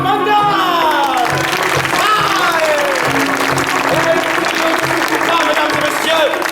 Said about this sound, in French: un tonnerre d'applaudissements pour nos artistes